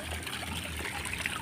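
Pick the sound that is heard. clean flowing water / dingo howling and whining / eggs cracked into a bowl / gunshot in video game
clean flowing water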